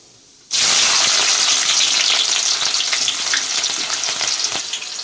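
Onion pieces drop into hot oil already popping with mustard seeds and burst into a loud, steady sizzle that holds close and strong to the end, with no talk.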